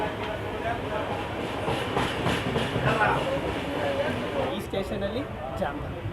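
The Brindavan Express from Bengaluru to Chennai rolls along with a steady rumble and rhythmic clickety-clack of its wheels, heard from on board, with voices talking over it.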